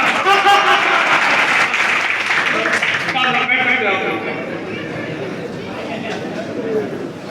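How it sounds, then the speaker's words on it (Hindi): Audience at a motivational talk clapping together with laughter and crowd chatter mixed in, loud at first and then easing into a softer murmur of voices. "एक बार ताली बजा के हंस लो मेरे साथ।"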